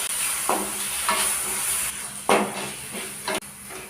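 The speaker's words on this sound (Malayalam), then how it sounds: "ഇനി നമുക്കിതിലേക്ക് ഒരു തക്കാളി അരിഞ്ഞത് ഇട്ട് കൊടുക്കാം." Chopped tomato and onion frying in a pan, an even sizzling hiss punctuated by a few scraping stirs at intervals, close and moderately loud.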